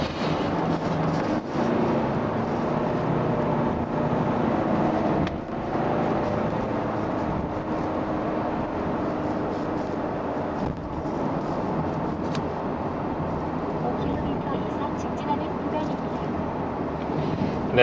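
A fourth-generation Kia Carnival diesel 7-seater accelerating hard with the pedal pressed down, heard as a steady, loud drone of engine and road noise that fills the cabin for the whole stretch, with brief bumps along the way.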